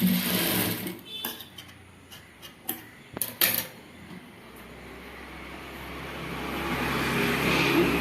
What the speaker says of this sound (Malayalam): രണ്ട് ഷോൾഡറും ഒരേപോലെ സ്റ്റിച്ച് ചെയ്ത് കൊടുക്കുക